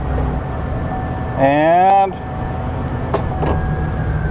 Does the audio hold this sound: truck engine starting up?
yes